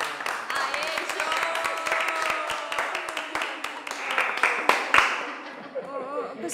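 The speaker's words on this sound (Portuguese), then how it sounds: "Bora aplaudir Joana" A small group of office coworkers claps and cheers for a colleague in a Brazilian comedy series, sharp irregular claps with voices calling out over them.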